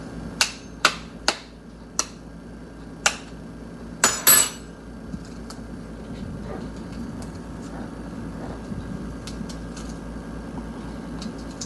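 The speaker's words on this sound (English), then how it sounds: "So first you need to crack the eggs." Eggs cracked open with a fork for an omelet: a quick run of sharp taps and clinks, several hits close together then a brief cluster, near and clear over a low steady background hum.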